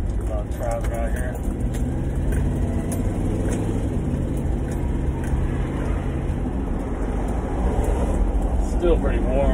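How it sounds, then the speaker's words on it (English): Road traffic along a suburban avenue near a roundabout, heard from inside a moving vehicle as a continuous low rumble of passing cars. Navigation prompts and talk run over it. "Traffic out here."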